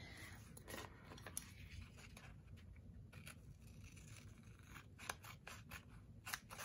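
Scissors cut paper for a planner page in quiet, repeated snips and slides, with faint rustling of the paper in between.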